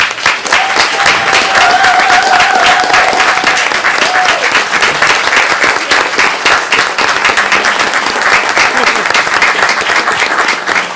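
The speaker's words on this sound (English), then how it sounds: "I would love for you all to join me in having them stand and giving them a round of applause" At a city council meeting, a room of people gives a loud, sustained round of applause, with dense continuous clapping close by and a few faint voices and cheers threaded through.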